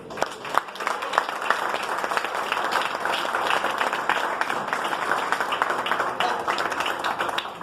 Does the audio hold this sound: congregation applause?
yes